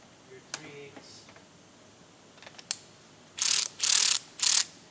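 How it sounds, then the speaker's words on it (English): Snap-on 1/4 inch electric ratchet running in three loud, close bursts of whirring, each roughly half a second long, after quieter clicks and handling noises from a mechanic's tools. "This is my 1/4 inch electric snap-on ratchet"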